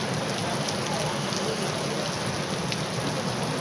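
Heavy rain pours down steadily over a village during Ganesh puja celebrations, a dense, even hiss that stays constant from start to finish with no talk over it.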